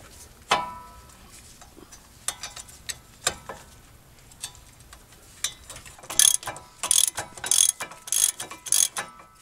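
Large breaker bar working a caliper bracket bolt loose on a 2014 Chevy Tahoe LT 4x4 front brake, giving sharp ratcheting clicks and metallic ticks close up, sparse at first and then a rapid cluster of clacks near the end.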